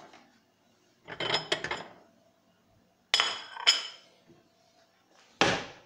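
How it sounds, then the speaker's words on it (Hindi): Metal dishes and utensils clink and clatter in a home kitchen while Sunday breakfast is prepared, three separate bursts of ringing knocks with short quiet gaps between them. "अभी हम बर्तन ले लेते हैं जिसमें हमने रोटी रखनी है।"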